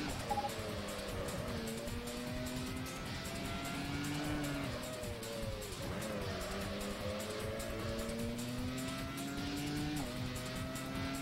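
A race car in the PS2 game Grand Prix Challenge accelerates hard, its high engine whine climbing and dropping through several gear changes with faint tire noise. The sound is steady and loud throughout.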